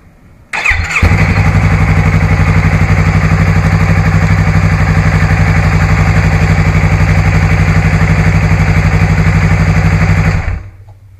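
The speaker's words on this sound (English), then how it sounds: "I'm going to turn the bike on and get the oil pump going" A Yamaha R3 motorcycle engine starts and settles into a steady, loud, close idle for about ten seconds before cutting off.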